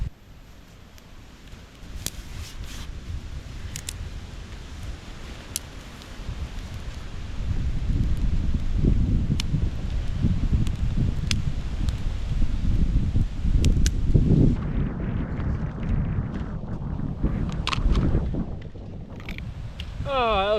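Strong wind buffets an outdoor campsite where a wet-wood campfire is being lit, a broad rushing roar that swells louder midway through and stays steady, with occasional rustling and clicks.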